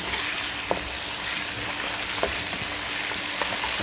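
Chicken pieces frying in ghee for chicken korma, a steady bright sizzle with occasional soft clicks of stirring, fairly quiet and close with no talking.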